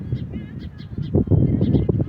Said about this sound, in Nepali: चिउ चिउ गर्दा हेर रे चरा।